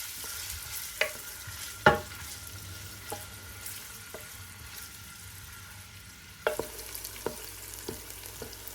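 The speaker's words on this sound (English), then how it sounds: "Commence by sautéing 2 finely chopped onions for a ceremonious 10-minute toast" Two finely chopped onions sauté in oil in a pot for Hyderabadi dalcha, giving a low, soft sizzle broken by a few sharp spoon clinks and scrapes against the pot.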